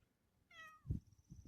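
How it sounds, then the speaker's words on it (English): A cat outdoors in a spring garden lets out a single clear meow, moderately close, followed by low rustling and thumps against faint background quiet. "My cat's out getting some sun."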